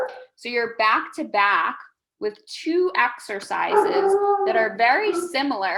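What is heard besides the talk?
dog barking and howling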